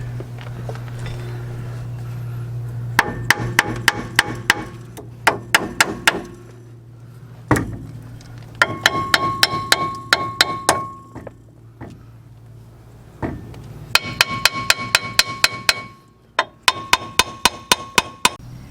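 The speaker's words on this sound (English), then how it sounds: "with a little hammering, in theory, this beast should just drop right out" Metal hammer blows knock at a bolt sleeve on a 7.3 diesel van, coming in rapid clanging bursts of several strikes with pauses between, over a low steady hum, close and loud.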